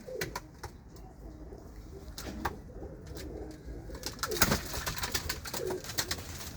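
Pigeons coo softly at close range amid scattered clicks, wing flutters and rustling, with no talking.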